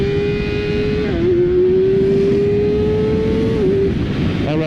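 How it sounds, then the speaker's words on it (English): A 2019 Kawasaki Ninja ZX-6R engine holds a loud, steady high rev while the bike is lifted into a wheelie, dipping briefly in pitch as the throttle shifts, then climbing again before easing off at the end. "let's do a big fat wheelie."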